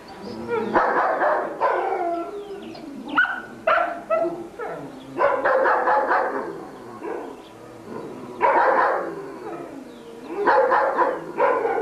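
Several dogs at an animal shelter bark, yip and howl in repeated bursts, loud and close, with people talking in between.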